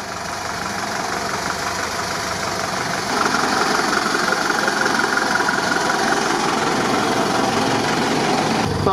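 A Mercedes G63 Gelandewagen on KrAZ truck tires driving off-road, its engine a continuous rough drone with a knocking rattle that swells slightly partway through, fairly close, no voices.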